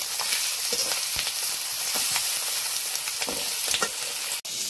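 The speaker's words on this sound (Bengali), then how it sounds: "মাছের মতন করে ডিমটা আমি ভেজে নিচ্ছি ওই সঙ্গে" Fish roe fries in hot oil, giving a constant close sizzle broken by sharp crackles and pops throughout.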